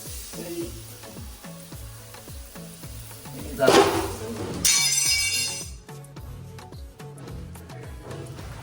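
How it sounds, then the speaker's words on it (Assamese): Onion sizzles in a hot pan with a steady, soft frying hiss close by. Brief louder bursts of spattering break in partway through, over a faint repeating tapping in the background. "বৰ্তমান পিঁয়াজটো গৰম হৈছে"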